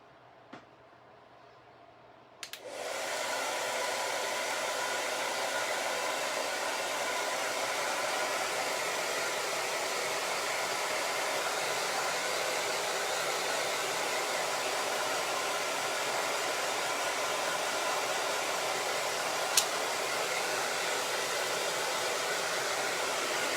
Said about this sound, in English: Get my hair dryer again.